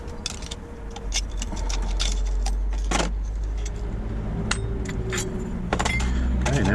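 Metallic clinks and jangling keys sound up close as a lock cylinder is pulled from a fire door, with sharp irregular clicks over a low steady rumble.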